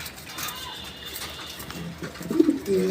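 Pigeons of the koka breed coo at a breeding farm, a soft throaty call rising near the end over a steady background hiss, with no talking.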